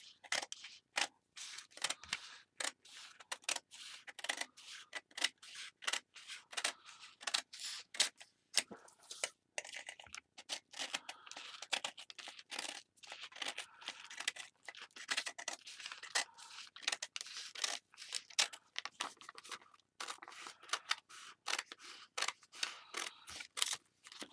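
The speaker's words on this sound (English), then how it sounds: "And then get your scissors. I cut right inside the line, not on the line." Scissors snip freezer paper steadily: quick, crisp cutting strokes one after another, up close, with short pauses between runs of cuts.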